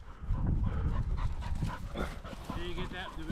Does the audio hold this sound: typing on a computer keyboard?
no